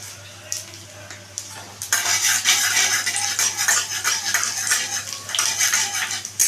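Dried red chilli and panch phoron frying in mustard oil in a pan, a steady close crackling sizzle that swells loudly after a quieter start, with scraping stirring clinks throughout.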